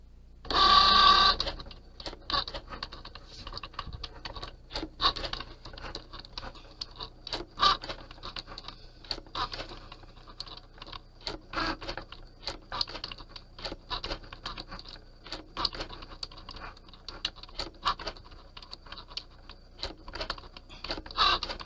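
A Cricut cutting machine runs after a cutting mat is loaded, giving a continuous mechanical whir with rapid irregular clicking and tapping, moderately loud and close, with no talking.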